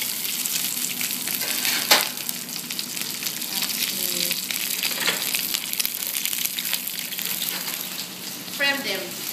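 Tiger prawns fry in a hot pan with a steady, close sizzle throughout, broken by a sharp clack near the start and a few short utensil scrapes as they are turned.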